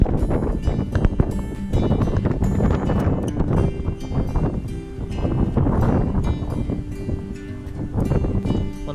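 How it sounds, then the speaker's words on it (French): Wind gusting across a sailboat under sail at about 8 to 10 knots on the way toward Gaspé, a loud, rough buffeting roar with fluctuating gusts and rustling, no talking. "On est à voile, il vente à peu près 8 à 10 nœuds"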